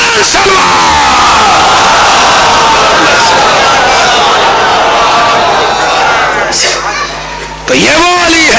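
A congregation at a Shia memorial majlis loudly recites salawat together, a dense, sustained roar of many voices that fills the space for several seconds before dipping briefly and swelling again.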